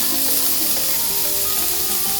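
Garlic and onions sauté in a pan for a Malaysian chicken curry, giving a loud, dense, unbroken hiss of frying close by with no speech.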